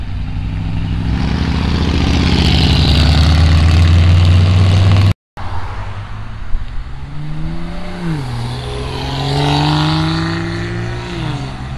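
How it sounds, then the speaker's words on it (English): Turbocharged car engines at an outdoor cars and coffee meet in Fairfield, Ohio: a loud, steady engine roar fills the first half, then another car revs with rising and falling pitch as it pulls past, close and dominant. "That turbo on that first one sounded crazy."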